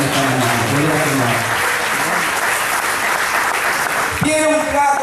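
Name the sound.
church congregation applause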